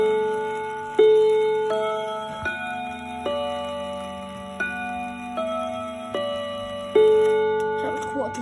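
A German Haller Westminster chime clock strikes six o'clock, ringing clear, resonant bell tones in a spaced sequence with steady decays, close and fairly loud in a quiet room.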